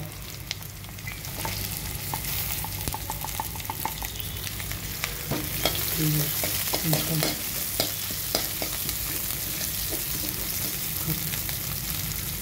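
Mustard seeds, cumin, sliced onion, green chillies and garlic fry in oil for a tothakura pappu tempering, a constant dense sizzle with frequent stirring clicks and scrapes close by.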